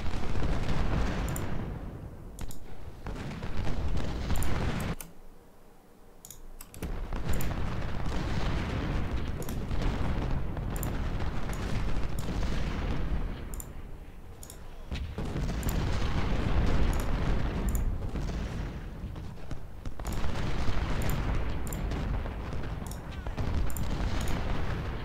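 Civil War cannons fire in the strategy game Ultimate General: Civil War during an assault on a fort, a steady barrage of deep booms and rumbling blasts rolling one after another, briefly dropping away before resuming.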